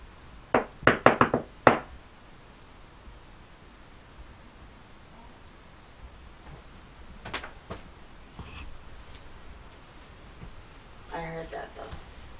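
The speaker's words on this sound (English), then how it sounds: "I'm gonna knock on the wall 3 times," A rapid cluster of loud knocks on a wall inside a house strikes early, followed by a quiet room with faint scattered taps and rustles.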